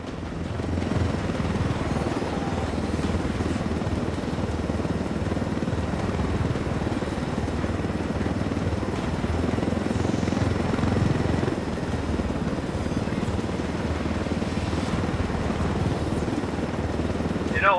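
Helicopter rotor and engine drone steadily for the whole stretch in Ghost Recon Wildlands, a dense, loud, unbroken low thrum with no breaks.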